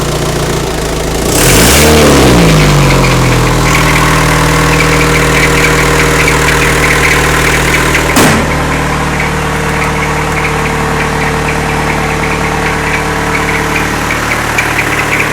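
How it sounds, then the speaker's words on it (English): A Land Rover fitted with an Isuzu engine idles steadily up close, running cold and loud through a holed exhaust, after a brief rev near the start; a faint alternator belt squeak may sit within the engine noise. "The slight squeaking you might be able to hear right now comes from the alternator belt."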